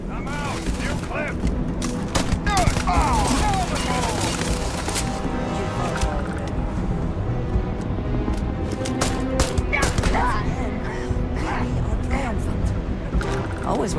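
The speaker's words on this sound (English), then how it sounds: "Who's shooting me?" Gunfire in the space game Starfield: repeated shots and impacts in a busy firefight, fairly loud and sustained, mixed with music and game effects, without speech.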